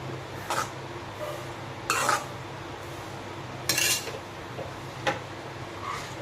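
Brinjal curry (kathirikkai kootu) being moved from a pot into a bowl, with a handful of separate metal scrapes and clinks of a spoon against cookware, spaced a second or two apart, close and fairly clear over quiet room noise.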